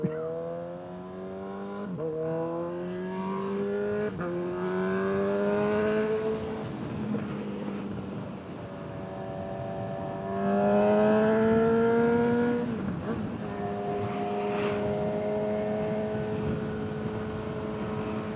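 A motorcycle cruises at 75 mph with the helmet visor closed, picked up by a small mic inside the helmet. A continuous engine drone rises and falls in pitch under a wash of wind rush. It stays loud and close throughout.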